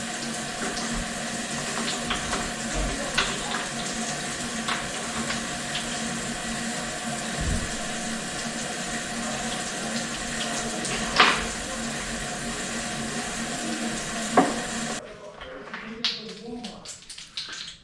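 Hot water pouring steadily into a mixing bowl for a seven-layer cake batter, a continuous splashing rush lasting about fifteen seconds before cutting off, with faint background noise after.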